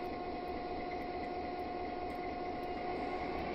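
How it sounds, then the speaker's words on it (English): Steady, dense rumble of a freight train rolling forward on the Sherman Hill line near Cheyenne in a train simulation game, constant and loud with no breaks and a faint tonal whine running throughout. "So we're going to let the train move forward without our wagon."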